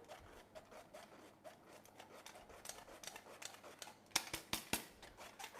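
Self-raising flour is mixed into a Christmas cake mixture in a bowl, making soft, irregular scraping and rubbing strokes that are quiet at first, then a cluster of sharper knocks and scrapes toward the end, with no voices.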